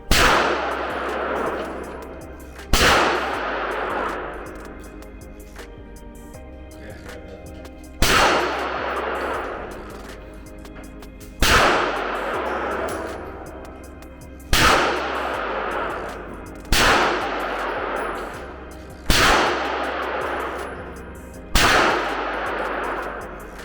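Loud gunshots crack one at a time every few seconds at an indoor shooting range, each followed by a ringing echo that fades before the next, about eight shots in all.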